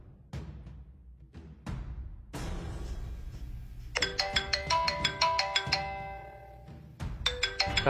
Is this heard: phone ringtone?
yes